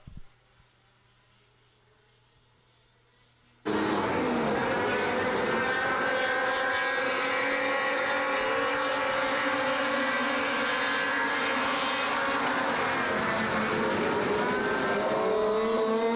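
After a few seconds of near silence, Formula 500 race cars roar through turns 1 and 2 in a Pro F500 last-chance qualifier, a loud sustained engine drone with shifting pitches that carries on steadily to the end.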